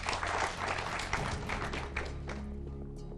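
Studio audience at a televised quiz competition applauding, dense close clapping that holds steady and then fades out toward the end.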